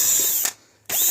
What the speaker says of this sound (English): Then we're going to do a small drill incision